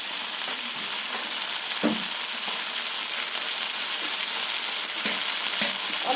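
Chili powder goes into spices frying in hot oil for a potato, raw tomato and catla fish curry, giving a steady, close sizzle with a few soft stirring knocks.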